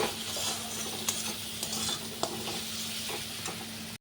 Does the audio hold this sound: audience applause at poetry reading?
no